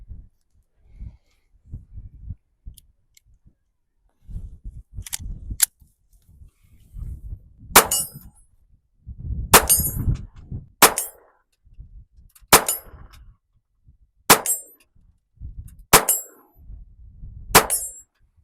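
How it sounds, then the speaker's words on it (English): Distant .22 rifle rounds strike a steel gong target on a tripod stand, giving about eight sharp ringing clangs spaced a second or two apart, with quieter low rustling and shuffling in between. "Hardly moved the gong. Obviously, it's a 22, but target's still standing."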